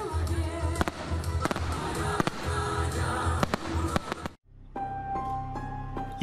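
Fireworks at a celebration in Crimea, a rapid run of loud sharp bangs and crackles over a busy background, then a sudden cut to a quieter steadier scene with lighter pops.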